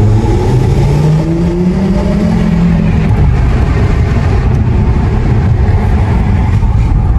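An Audi RSQ3 with a 310 hp engine pulls away gently from a standstill, its loud engine note rising smoothly in pitch under steady wind and road roar, heard from inside the car.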